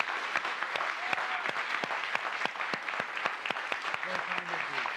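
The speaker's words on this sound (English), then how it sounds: "Please join me in one more round of applause for this amazing lecture" Audience applause closes a lecture on volcanoes and sustainable catalysis, a steady, close roomful of clapping with sharp individual claps throughout and faint voices near the end.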